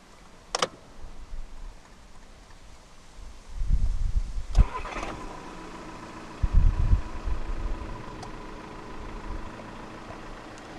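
The 2.0 TDI diesel engine of a 2015 Volkswagen Tiguan cranks and catches after a couple of tries, then settles into a steady idle, preceded by a few clicks and clunks.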